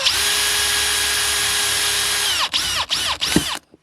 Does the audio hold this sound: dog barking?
no